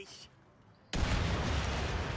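A sudden, loud explosion in the video game Mafia 3 on PS4 bursts in after a near-silent moment and holds as a dense, roaring blast that lasts to the end.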